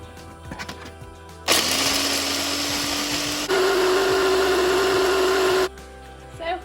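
A blender whizzes basil pesto in two steady runs of about two seconds each, the motor pitch stepping up partway through. It sits loud and close and stops abruptly, with faint kitchen clatter before and after.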